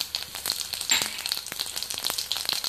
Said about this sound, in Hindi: देखिए, तेल गरम हो गया, मैं जीरा डाल रही हूँ इसमें